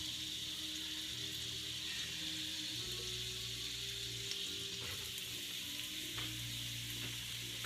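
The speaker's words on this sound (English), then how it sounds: "And we're going to saute the onions." Onions sauté in olive oil with a constant bright hiss of sizzling, steady and close, over a low hum, with faint occasional stirring taps and no speech.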